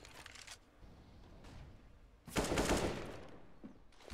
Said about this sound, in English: that's a very nice deagle shot